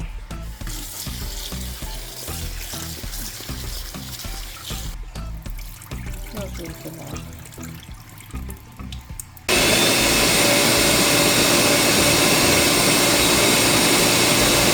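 Chopped onions washed under a running kitchen tap: after a stretch of quieter clattering, a loud, steady rush of water starts abruptly and continues to the end, close and with no voices.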